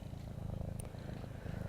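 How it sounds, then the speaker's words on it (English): Rufus, an eight-month-old red cat, purrs close up in a steady, rhythmic low rumble, each breath cycle rising and falling evenly. "listen to him purr"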